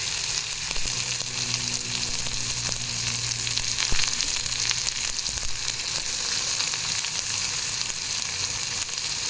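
Crispy corn frying with onion and carrot in hot oil, a constant bright sizzle with occasional stirring clinks and a low hum underneath, no voices.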